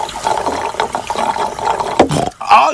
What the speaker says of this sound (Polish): Ale siorbią te moje prosiaczki.